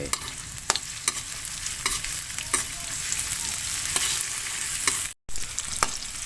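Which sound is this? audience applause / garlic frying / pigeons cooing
garlic frying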